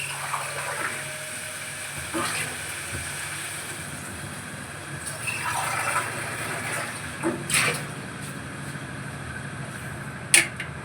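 Water is poured into a cooking pot, a fluctuating gush and splash of moderate loudness across several seconds, ending with a sharp knock, with no speech.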